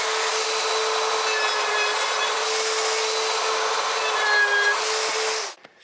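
A steady, high whirring drill pre-drilling pilot holes for screws in a loft bed runs continuously for several seconds, close and loud, then winds down and stops.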